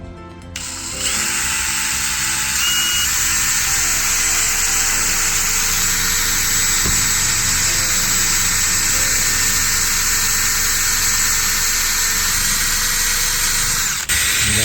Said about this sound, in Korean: 구멍을 좀 뚫을게요